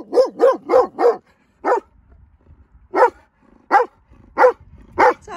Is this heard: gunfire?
no